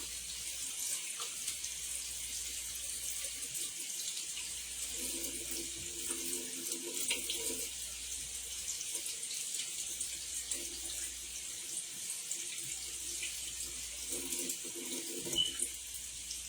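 A kitchen tap runs a steady stream of cold water as peppers are rinsed beneath it, continuous and fairly close, with soft low thumps of handling rising and falling under the flow and no voices.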